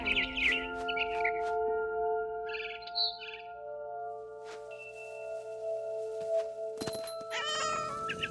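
A cat in the video game What Remains of Edith Finch meows several times in short, clear calls, with bird-like chirps and soft game music around it and no talk.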